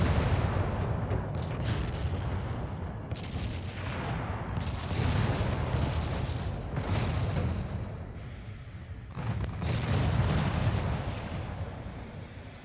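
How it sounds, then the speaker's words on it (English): Naval 8-inch guns fire in the game Ultimate Admiral Dreadnoughts. Deep, rumbling salvos boom one after another, several heavy blasts with long rolling tails across the stretch, loud and with no talking. "8-inch guns are reasonable enough if you use the right shells."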